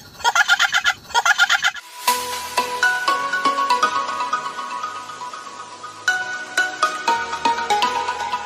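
Pet chicks peep in a dense, high-pitched chorus, with quick repeated cheeps over a busy backdrop of chirping that continues throughout.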